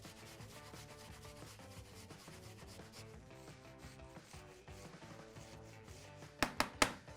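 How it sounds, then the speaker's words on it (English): Fresh ginger and garlic are grated on a rough grater, a continuous rhythmic rasping scrape in quick repeated strokes, fairly close, ending with a few sharp taps or knocks, with no talking. "going to grate up our ginger and garlic"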